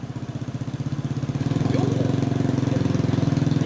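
A 1996 Kawasaki ZRX-II motorcycle with a Yoshimura four-pipe exhaust idles steadily, its loud, close, even engine pulse swelling slightly midway through.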